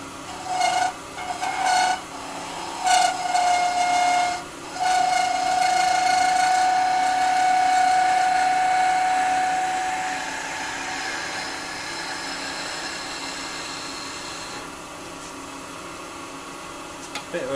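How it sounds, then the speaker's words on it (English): Skew chisel cutting a spinning length of wood on a lathe, giving a steady close scraping and rasping hiss with a few brief interruptions early on, then easing slightly softer toward the end. "by laying the bevel on with a little lift of the hand, I can pick the cut up anywhere along the wood"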